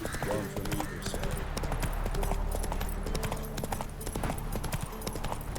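Roach, Geralt's horse in The Witcher 3, gallops with steady, rapid clip-clop hoofbeats, loud and continuous over a dense bed of game battle noise and music, with a faint whinny possible.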